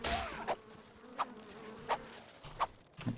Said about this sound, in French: J'ai des mouches.